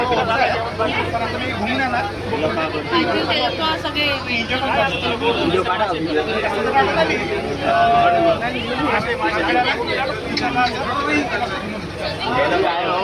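Crowd of people chattering and jostling near boats at a busy Konkan coastal jetty, a constant babble of overlapping voices, fairly close, with no single voice standing out.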